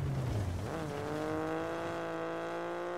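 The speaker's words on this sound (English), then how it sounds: "Good little handbrake turn." A rally car in the WRC 10 video game swings through a handbrake turn on a gravel stage at Estonia Rally. The loud engine note dips sharply, then settles into a steady, sustained rev with no talking.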